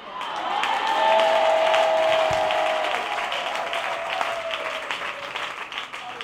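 A church congregation cheers and applauds together in a loud swell of clapping with whoops and a sustained shout rising above the crowd, then settles into steadier applause.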